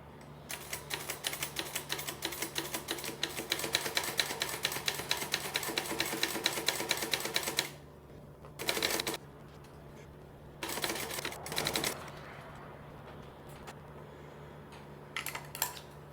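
A sewing machine stitches the arms onto a wool anorak in a fast, steady mechanical run for about seven seconds, then stops and restarts for a few short bursts with quiet pauses between.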